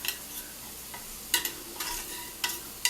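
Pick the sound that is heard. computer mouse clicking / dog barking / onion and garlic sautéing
onion and garlic sautéing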